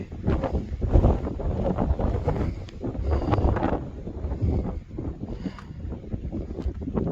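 Strong gusty wind on the Appalachian Trail roars across the microphone continuously, rumbling low and rising and falling in bursts, with no one talking.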